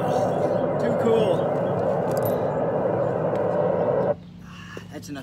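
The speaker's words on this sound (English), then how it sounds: "That's enough static for now." Car radio tuned between stations gives a loud, steady wash of static hiss for about four seconds, then cuts off abruptly, leaving a much quieter background.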